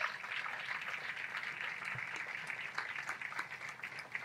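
Sustained applause from a crowd at a hall of fame ceremony, dense and even clapping filling the room at moderate distance.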